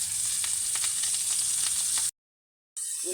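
A small onion frying in Egyptian ghee gives a loud, steady sizzle with soft stirring clicks, then cuts to silence before the sizzle returns briefly.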